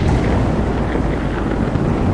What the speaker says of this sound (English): a heavy gust of wind blew down the shore, and the waves began to grow tall